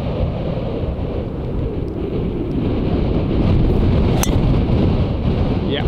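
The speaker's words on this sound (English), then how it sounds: "wind is heavily off the left." Strong wind buffets the microphone on an open golf course, a steady, loud, broadband rush that holds unbroken throughout with no voices.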